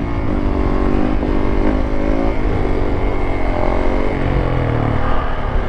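A small BMW car spinning donuts, its engine droning loud and continuous with wavering revs and tyre noise close by, no pauses throughout.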